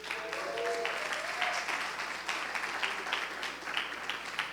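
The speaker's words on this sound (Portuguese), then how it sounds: "deixa uma salva de palmas para ele" A quiet round of applause from a church audience at a lecture, moderate continuous clapping heard from a distance in a roomy space.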